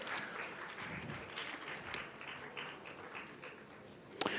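A conference audience applauds at an award presentation, a faint, even patter of clapping heard from a distance, ending with one louder clap.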